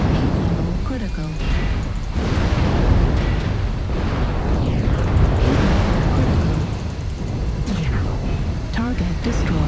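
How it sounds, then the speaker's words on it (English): Rumbling airstrike explosions boom and roll one after another in the mech combat game MechWarrior Online, a dense, loud, continuous barrage under game noise. "Airstrike en route."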